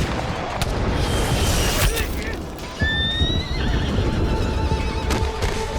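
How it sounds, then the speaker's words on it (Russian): A horse neighs loudly with a long whinny amid a historical battle scene with clip-clopping hooves and distant gunfire, all under a narrator's voice. "Одна из стрелецких пуль даже задела лошадь под Лжедмитрием"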